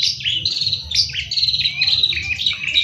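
Long-tailed shrike (cendet) singing a rapid string of high, scratchy chirps and warbled notes, close and fairly loud over a low background rumble.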